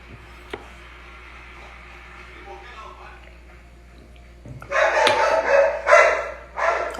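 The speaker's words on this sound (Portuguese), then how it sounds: "Olha o meu cachorro querendo conversar na live também." A house dog barks in a few loud, close bursts after several seconds of quiet room tone with a faint voice in the background.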